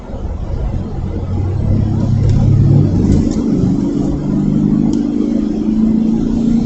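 A pickup truck with no bed, towing a trailer without fenders, hot rods down the road. Its engine is a loud, steady, close rumble that rises in pitch as it accelerates, with no speech over it.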